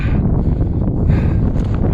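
Strong wind roars against the microphone in a constant low rumble, loud and unbroken, on a cloudy, cold mountain hike in Madeira.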